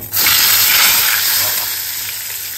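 Hot oil in a pan bursts into a loud hissing sizzle that starts abruptly, then slowly fades while staying strong and close.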